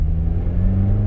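A manual car at full throttle gives off a steady, loud, low engine drone with a deep rumble, heard close and alone for about a second.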